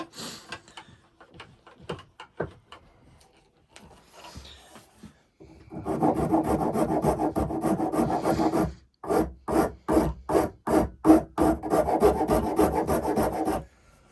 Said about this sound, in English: The last part is just spending a bit of time sanding it.